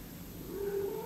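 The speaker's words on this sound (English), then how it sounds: "If you could hear that, that was my cat." A cat lets out a single rising meow, faint and close-ish, over a quiet indoor background with no speech.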